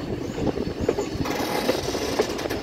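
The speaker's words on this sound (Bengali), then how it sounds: "আর এই ট্রেনটা কার্ভ শেষ হয়ে চলেছে" A passenger train on a hill railway near Lumding rounds a curve, giving a steady, close rolling rumble with faint recurring wheel clicks throughout and no voices.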